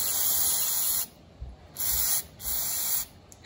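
Three short, close bursts of aerosol cleaner are sprayed onto a Ford Fusion mass airflow sensor, each a sharp hiss lasting about a second with brief quiet gaps between.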